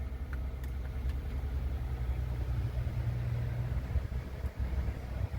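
A 2015 Toyota Sienna minivan with 71k miles idling after a start, a steady low engine rumble close by, continuous and even throughout.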